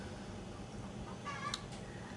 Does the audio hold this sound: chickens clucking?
yes